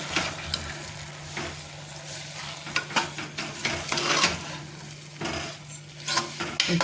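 A utensil scrapes and stirs through foxtail millet pulao in a hot pan, repeated strokes over a steady sizzle, close and fairly loud.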